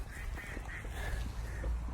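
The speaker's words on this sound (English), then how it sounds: "we landed up with an entire fleet of ducks" A flock of domestic female ducks quacks repeatedly in a steady series of nasal calls. It is heard outdoors at a moderate distance with no voices.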